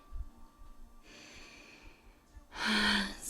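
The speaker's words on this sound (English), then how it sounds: "Nourishing yourself with an inhale so deep. Taking all you need into the body." Deep inhale during a yoga breathing cue, heard as faint breathy air followed by a strong, close, drawn-in breath near the end, with no talk.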